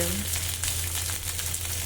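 Boiled, peeled colocasia (taro) goes into a sizzling tempering, giving a loud, continuous close frying hiss with faint stirring noises and no speech.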